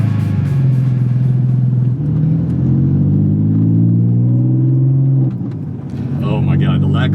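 A Porsche 997 or 996 driven from inside the cabin, a low steady engine drone rising and falling in pitch with gear changes, loud and continuous, with a voice speaking over it near the end.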